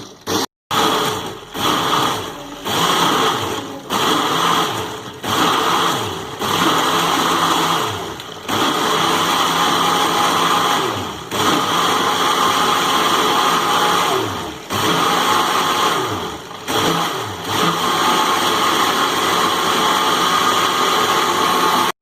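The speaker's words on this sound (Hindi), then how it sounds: "जी तो अब हम इसको ब्लेंड करते हैं।" A kitchen blender purees mango pulp into a smooth paste for homemade jam, a loud steady motor whir running in repeated pulses with brief gaps between them.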